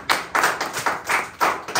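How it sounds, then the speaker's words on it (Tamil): A church congregation claps in praise to the Lord, about seven crisp, evenly spaced claps in a steady rhythm, close and clear with no voices. "கைத்தட்டி ஆண்டவரை மகிழ்ச்சிப்படுத்துவோம்."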